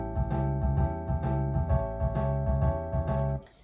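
Pop shuffle backing track from a practice app, with a bouncy repeating bass and drum groove and sustained chords, steady and moderately loud before stopping abruptly near the end.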